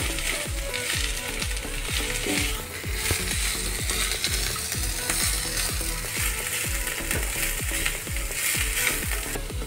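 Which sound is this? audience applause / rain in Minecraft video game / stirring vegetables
stirring vegetables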